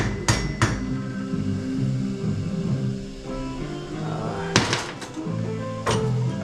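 A hammer strikes through a block of wood onto a part of a 1977 Buick Regal tilt steering column, with about five sharp knocks in small clusters and a person talking.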